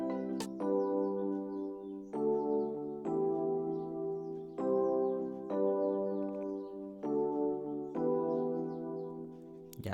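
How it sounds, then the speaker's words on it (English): Basic electric piano preset from Keyzone Classic in FL Studio, playing a clean sequence of sustained chords struck one after another in an even rhythm, alone with no talk. "So here the preset is basic electric piano."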